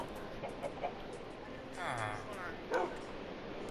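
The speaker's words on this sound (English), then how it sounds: "Look, chicken's looking at me." A chicken clucks in the PlayStation 4 edition of Minecraft, with a short, faint call in the middle of the clip. Game ambience and other brief sounds run under it.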